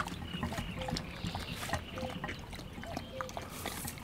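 A dog laps water from a bowl outdoors on a morning walk near ducks in Sloviansk: steady, wet lapping at close range, continuous over a murky outdoor background.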